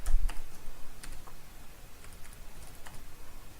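Quick light clicks of fingers typing on a computer keyboard, close and fairly soft, tapping in uneven bursts with short pauses.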